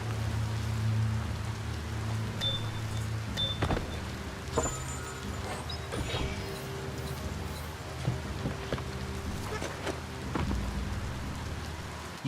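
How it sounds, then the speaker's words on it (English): Steady rain patters in the video game Biomutant, with a soft low rumble of thunder underneath; fairly quiet and continuous throughout. "Did you hear thunder?"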